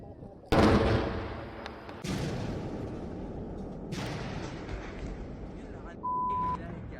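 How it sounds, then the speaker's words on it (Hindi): Three heavy explosions at the Lebanon border boom out in sequence with long rumbling decays, followed by a brief steady electronic beep. "लेबनान का बॉर्डर धमाकों से दहल रहा है।"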